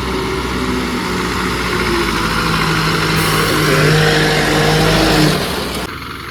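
An overloaded Volvo Eicher heavy truck climbs a slope, its engine droning loud and steady and straining harder toward the end before easing off, with no voices.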